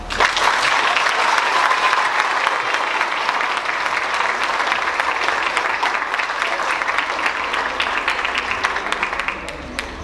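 A school speaking event audience applauds a student's speech, with dense, steady clapping filling the space and gradually thinning slightly near the end.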